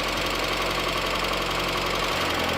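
Freshly swapped 1.8-litre Mazda Miata engine idling with a possible exhaust leak, a steady low rumble with a fast, even pulsing knock, close and continuous for a couple of seconds, no voices.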